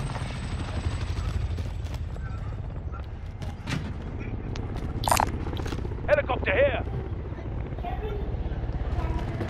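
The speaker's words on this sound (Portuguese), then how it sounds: "Pega esse helicóptero aí, ó." Helicopter in Call of Duty Warzone, a steady rotor drone under loud talk, with scattered bursts of gunfire and sharp in-game effects.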